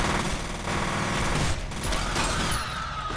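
Gunfire in the first-person shooter FEAR, a loud, sustained burst of automatic shots mixed with mechanical clanks and creaks, rattling on without pause and with no talk over it.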